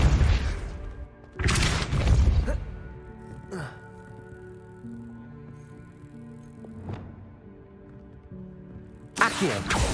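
Depulso force spell cast in Hogwarts Legacy, sharp booming bursts that strike and decay against a quieter game ambience with a low tonal hum, repeated a few times.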